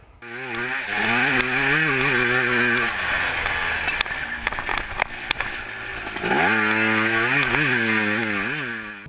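A CR500-framed, fuel-injected YZ450F four-stroke motocross bike revs loudly up close, pitch climbing and falling through gear changes, with a rough, popping patch midway before winding up again.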